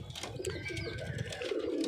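Pigeons coo in a loft where young pigeons are being kept, low soft repeated coos running steadily through the clip alongside faint brighter bird chirps, fairly close and with no talking.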